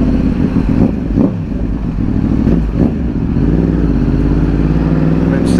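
A 2009 Yamaha R1 sport bike revs and pulls through a tunnel, its loud exhaust droning and booming with reverberation, rising and falling with throttle blips and gear changes throughout.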